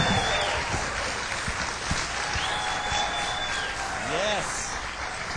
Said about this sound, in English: Big round of applause for my buddy,